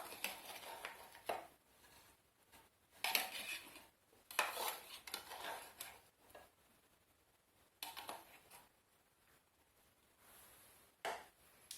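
Intermittent metallic scraping and clinking of a utensil stirring orange juice and pulp in a saucepan, in short bursts separated by quiet pauses, with no one speaking.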